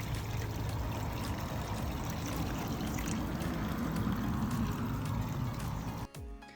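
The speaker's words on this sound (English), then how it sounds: "bleach and water going in." Bleach and water pour steadily into an RV fresh water tank, a continuous hissing, gurgling stream at close range that cuts off abruptly near the end.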